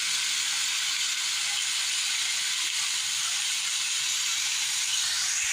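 Chicken pieces hit a hot pan for chicken afritada, giving a steady, loud, broad hiss of sizzling that holds evenly without a break.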